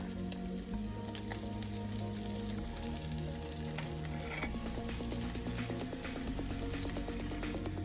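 Potatoes sizzling in hot oil as they are slipped in one at a time for Gujarati dabeli, a loud steady crackling fry with bubbling pops throughout.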